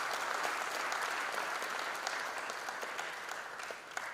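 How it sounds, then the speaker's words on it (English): An audience at a college freshers' induction program applauds to welcome a guest, with steady, dense clapping that holds throughout and fades slightly toward the end. "Let's welcome him with a loud applause."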